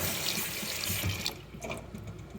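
Green beans swished around by hand in a bowl of cold water, giving steady close sloshing and trickling water sounds that ease into softer, intermittent splashes.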